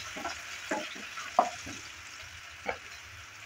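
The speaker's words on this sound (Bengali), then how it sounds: "পেঁয়াজটা দেওয়ার পর হালকা একটু নেড়ে চেড়ে নিচ্ছি।" Small finely chopped onion is stirred and fried in a pan, soft sizzling under scattered scraping strokes of a spatula, with one sharper clack against the pan midway and another near the end.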